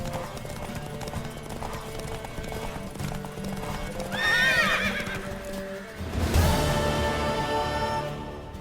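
Horse neighs loudly twice over steady clip-clop of hooves in The Witcher 3, the whinnies rising and falling close by while a faint voice murmurs underneath.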